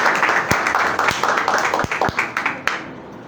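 A congregation at a Resurrection Day church service applauds, a dense wash of many hands with sharper individual claps popping through, steady and fairly close for a few seconds before tapering.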